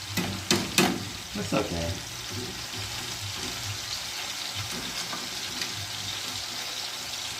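Onion frying in a pan sizzles steadily and faintly, with a few sharp stirring clicks near the start and a brief spoken remark.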